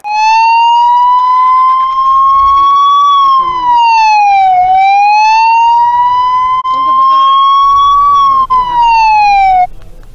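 A loud, close ambulance siren wails continuously, its pitch slowly rising and falling in long sweeps for about ten seconds.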